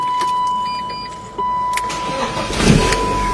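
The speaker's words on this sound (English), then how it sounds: "I want to turn on the vehicle just to see if it actually turns on" A car engine cranks and catches after liquid nitrogen was put in its fuel tank, preceded by a steady electronic chime and a clunk, then settling into a close, rising idle.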